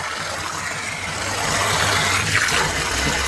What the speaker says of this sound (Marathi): असं पूर्ण पाणी भरून घ्यायचं